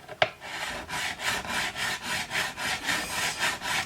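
A fret file levelling guitar frets, giving a steady rhythmic rasp of metal scraping across fretwire, about nine even back-and-forth strokes, close and clear, with no talk.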